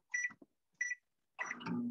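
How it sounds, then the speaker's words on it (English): A microwave's kitchen timer gives two short, bright electronic beeps close by, followed by a louder, rougher burst of sound to the end. "kitchen timer"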